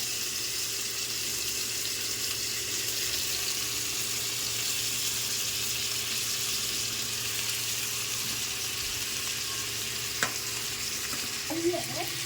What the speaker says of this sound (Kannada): ಇದಕ್ಕೆ ಈರುಳ್ಳಿ ಹಾಕ್ಕೊಳ್ಳಿ. ಈರುಳ್ಳಿನ ಚೆನ್ನಾಗಿ ಫ್ರೈ ಮಾಡಬೇಕು.